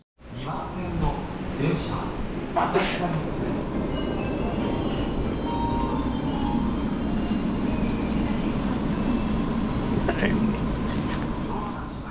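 A Tokyo subway train rides along with a steady, loud rumbling roar of wheels on track and faint squeals, people talking softly beneath it throughout.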